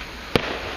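A single sharp firework burst at a Fourth of July display in Stroudsburg, Pennsylvania, a loud crack standing out over a quiet outdoor background.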